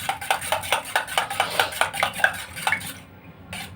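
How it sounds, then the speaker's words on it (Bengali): A spoon beats eggs in a bowl for a sponge cake, making a steady run of quick, close clinking strokes that fade out near the end. "আমার কাছে হুইস্পার নেই, তাই জন্য আমি চামচ দিয়ে করছি।"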